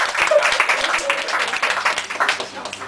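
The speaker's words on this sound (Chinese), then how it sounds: "那我想咱就一个掌声" Warm applause from a theatre audience welcoming a guest onstage, brisk clapping that swells and then gradually thins out over about three seconds.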